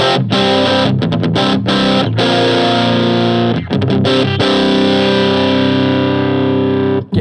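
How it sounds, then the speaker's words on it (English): Loud, raunchy overdriven electric guitar runs through a TC Electronic Mojo Mojo pedal, strumming sustained distorted chords with a few quick muted stops before ringing out. "It has that kind of raunchy kind of noise to it, but in a nice way."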